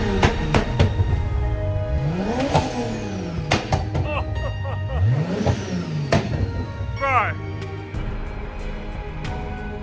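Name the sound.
Nissan Skyline R32 engine revving on dyno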